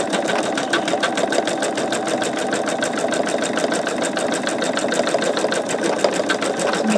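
An embroidery machine stitches a sugar skull design of over 57,000 stitches, a steady, loud, rapid mechanical chatter of needle strokes that runs without pause for the full seven seconds.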